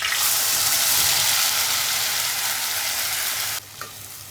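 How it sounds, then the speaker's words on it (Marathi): Masala sizzles and crackles loudly in hot oil for a fish curry, a steady frying hiss that stops abruptly near the end. "गरम तेलात मसाला घालू"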